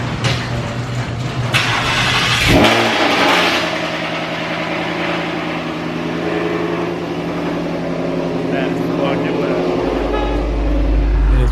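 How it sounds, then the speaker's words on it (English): A 2018-or-later Ford Mustang GT V8 with a newly installed wicker bill cranks and catches on a cold start, then settles into a steady idle rumble, with a brief horn-like toot near the start and a low roar at the end. "We're gonna do a cold start."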